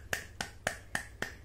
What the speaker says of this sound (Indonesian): Kalau adik-adik pilih kelinci, tepuk tangannya